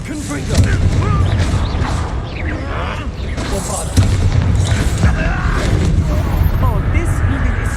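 Explosive Confringo blast spells boom and crash during combat in Hogwarts Legacy, loud repeated impacts over a busy rumbling battle bed, with a sharp hit near the middle.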